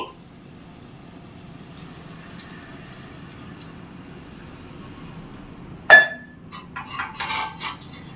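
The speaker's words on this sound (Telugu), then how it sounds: "ఇప్పుడు వాటర్ పోసుకుందామండి" A sharp clatter of metal on a pot of mutton curry, followed by a short run of splashing as water is poured in.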